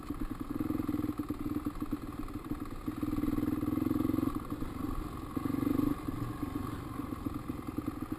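A dirt bike engine buzzes steadily as it rides along trails, with the revs rising and easing in a few surges, mid-distance and fairly loud, with no voices.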